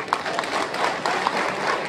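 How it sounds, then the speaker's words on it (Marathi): An audience at a political rally in Sindhudurg claps loudly and steadily, a dense close burst of applause with no voice on top. "भाई या वाक्याला टाळ्या किती पडल्यात बघा."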